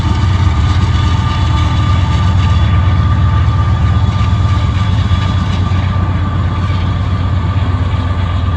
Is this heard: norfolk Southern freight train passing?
yes